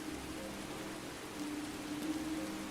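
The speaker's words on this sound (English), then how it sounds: "We'll be out of the rain soon enough." Steady broadband rain from the game Skyrim hisses continuously at moderate level, with a faint tonal hum of music or wind underneath and slight swells in intensity toward the end.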